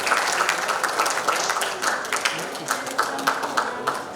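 Audience applause for the winners at a youth entrepreneurship bootcamp and festival, steady dense clapping from a crowd throughout, fairly close and lively with no speech.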